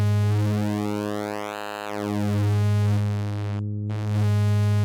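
A complex synthesizer waveform from the VA oscillator of the VPS Avenger 2 plugin, sustained and loud with rich buzzing harmonics and a bright filter-like sweep that rises and falls, ending in a brief dropout before returning, alone without voices.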